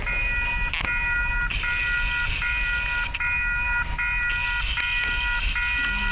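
Wheeling & Lake Erie freight cars roll across a crossover onto a siding track, with a steady rolling rumble, periodic metallic clunks over rail joints and a high sustained ringing tone from nearby crossing gates.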